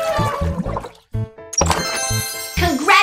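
A cartoon sound effect of an elephant drinking water through its trunk: gurgling, slurping liquid noises mixed with bright musical tones, in short bursts with a brief pause midway.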